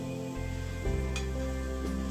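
A duck goes into a hot pan, set to blanch in water with scallion, ginger and baijiu, giving a sudden loud sizzling hiss that holds steadily for the rest of the moment, close and alone without talk.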